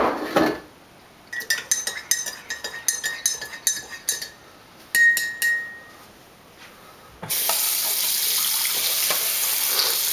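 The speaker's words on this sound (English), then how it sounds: "Give it a rinse." A coffee cup clinking and rattling against dishes and cutlery in a sink, a run of sharp close knocks, then a tap turns on and water gushes steadily.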